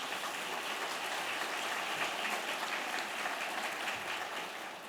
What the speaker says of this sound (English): So a huge round of applause for these incredible moms.